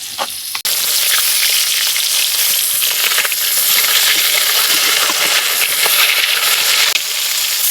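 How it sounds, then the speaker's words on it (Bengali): Rohu fish pieces fry in hot oil in a pan, a loud, close, continuous crackling sizzle that hardly varies, briefly broken near the start by a short gap. "লাল লাল করে আমার মাছ ভাজা হয়ে গেছে"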